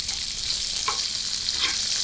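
Bacon for Southern-style fried cabbage sizzles steadily in a pan, a continuous bright hiss with a couple of small pops and stirring scrapes, close and alone.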